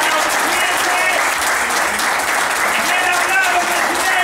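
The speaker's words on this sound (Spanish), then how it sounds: "¡Un aplauso, presidente!" Sustained applause from a gathered crowd at a tribute event for Angel "Pocho" Brunel, steady and dense throughout, with voices calling out over the clapping.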